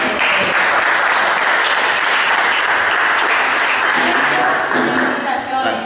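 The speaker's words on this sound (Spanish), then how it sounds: "un fuerte aplauso para ti." Loud, sustained applause from a crowd at a traditional music school in Tumaco, dense clapping filling the whole stretch with little letup.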